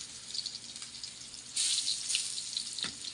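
Garlic drops into hot rendered pork fat for pakbet and sizzles steadily, the frying hiss jumping louder partway through and staying bright and close, with no talking.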